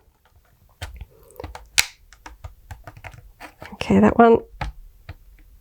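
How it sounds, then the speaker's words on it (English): Plastic parts of a Micro Galaxy Squadron Star Wars Imperial Shuttle toy click and snap together in a series of sharp, close, irregular clicks, with brief talk partway through. "Similar kind of clicking sounds."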